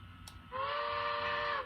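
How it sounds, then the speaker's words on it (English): A model railroad locomotive's sound system blows a steady steam-style whistle for about a second, clear and moderately loud over a low hum, after a brief click. "And the whistle works."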